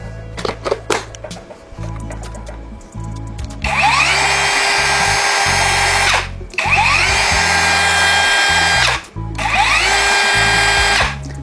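A cordless mini circular saw with a brake spins up and runs in three loud bursts, each whining smoothly and steadily before cutting off, after a few clicks and handling noises.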